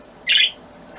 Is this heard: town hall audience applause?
no